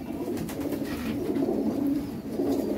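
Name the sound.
Black Tiger breed pigeon cooing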